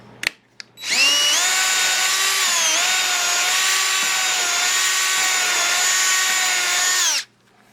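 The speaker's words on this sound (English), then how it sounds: "we're going to run the barrel trimmer through it" A barrel trimmer, driven by a power drill, cuts into a pen blank clamped in a vise with a loud, steady, high whine lasting about six seconds, pitch dipping slightly under load, then stops abruptly.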